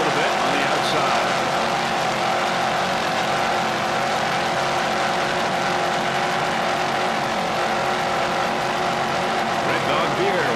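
Offshore racing powerboats, including a 28-foot Douglas Skater and a boat with two 850-horsepower Northwest engines, roar in a steady, continuous engine drone at a grand prix off Jacksonville, with a commentator talking over it throughout.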